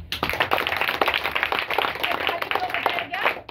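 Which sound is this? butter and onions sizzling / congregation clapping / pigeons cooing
congregation clapping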